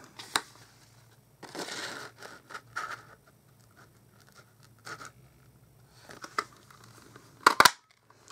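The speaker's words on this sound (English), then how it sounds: "I'm just going to take my two inch two and a quarter inch circle punch and I'm just going to cut out some of these circles" A two-and-a-quarter-inch circle punch cutting out paper circles, heard as scattered close crunches and soft scrapes with a sharp snap near the end, separated by quiet gaps.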